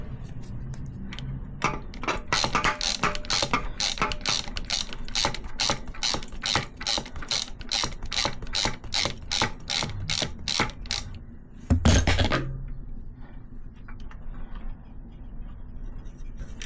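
A ratchet undoing a 12mm bolt on a Triumph motorcycle exhaust bracket during a TEC exhaust fitting: a long run of rapid, evenly spaced metallic clicks, close and crisp, then a louder clunk and quiet.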